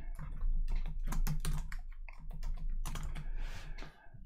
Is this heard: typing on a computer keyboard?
yes